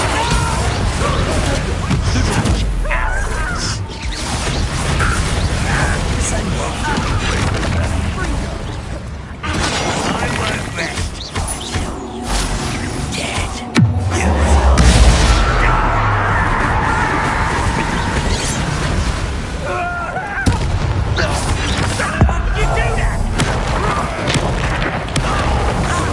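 A Bombarda blasting spell erupts in the Hogwarts Legacy video game as a loud booming explosion, with a sharp burst midway through a dense, continuous layer of battle effects, music and character voices.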